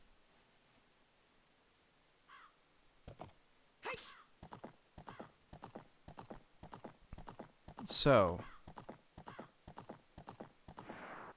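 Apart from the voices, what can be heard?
horse hooves clip-clop in Zelda: Ocarina of Time video game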